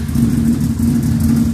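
A Can-Am Renegade 1000 ATV engine fitted with a red LED display mod runs steadily right after startup, with a deep, loping idle rumble that stays loud and close for the whole stretch.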